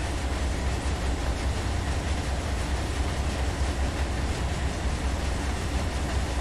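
A short freight train hauling rock rolls along in the Run 8 Train Simulator game, giving a continuous, loud low rumble with a steady rolling drone and no pauses or talk.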